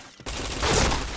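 A short burst of rapid gunfire in a shooting video game, a loud dense fusillade cutting in abruptly after a brief quiet moment.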